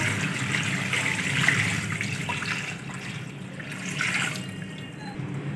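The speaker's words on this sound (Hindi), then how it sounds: "पानी ऐड करेंगे 3 से 4 लीटर।" Steady running water pours continuously into a large pot holding 5 kg of chicken, 3 to 4 litres in total, a broad splashing rush that swells slightly midway and carries on without any talking.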